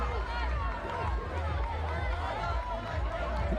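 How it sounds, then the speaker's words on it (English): Shouts and busy chatter roll through the stands at a women's soccer derby between Fort Lauderdale United FC and Tampa Bay Sun FC, a steady crowd hubbub with raised voices over the field noise. "You can hear more shouting from the crowd as well."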